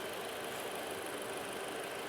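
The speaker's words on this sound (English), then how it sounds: "Okay, so Gavin, you can go ahead and turn off the engine." A Toyota RAV4 engine idles during an air conditioning check, a steady, faint mechanical hum with even texture and no breaks, heard alone without voices.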